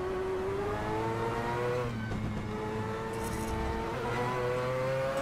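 A Le Mans race car in Assetto Corsa revs hard in second gear, a loud, continuous engine howl climbing in pitch, dipping at a shift, then rising again, close and without speech.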